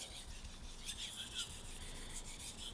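A knife blade is sharpened on a Gesshin 6000 grit whetstone, producing faint, repeated scraping strokes in a quiet, even rhythm.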